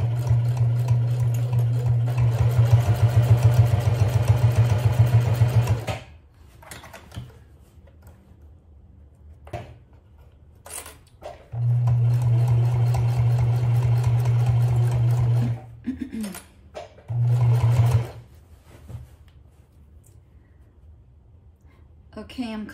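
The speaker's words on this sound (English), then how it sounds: "now we're going to take it to the sewing machine and start sewing" A sewing machine stitching a fabric bag, running in bursts: one long run, a pause with soft handling noises and talk, then another long run and a short final burst.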